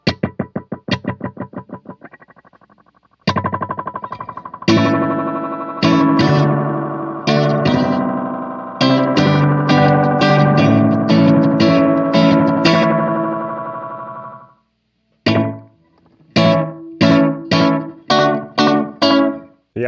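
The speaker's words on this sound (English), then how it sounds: "Here's a bit more of a slap sound." Electric guitar played through a vintage Boss DM2 analog delay pedal on a short slapback setting, quick doubled repeats on each picked note and chord, with strummed passages, a brief pause, then sharp choppy stabs, loud and without voices.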